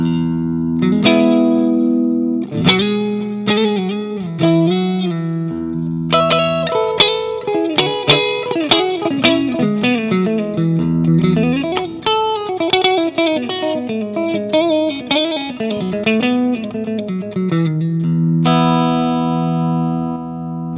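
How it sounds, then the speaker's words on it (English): An electric guitar plays through a clean amp with the overdrive pedal switched off, picking single notes and chords in a lively, ringing phrase that carries on loud and close for about twenty seconds. "here's the clean sound of the amp by itself."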